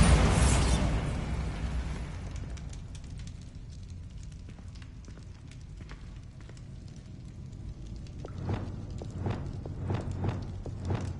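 A Bombarda spell blast in Hogwarts Legacy bursts loudly at the start, rumbling off over several seconds, followed by a string of sharp clattering impacts near the end.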